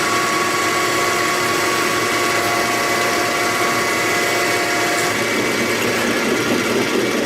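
A metal lathe runs with its feed engaged while taking a cut, giving a loud, steady motor hum with a grinding, whining edge that continues unbroken.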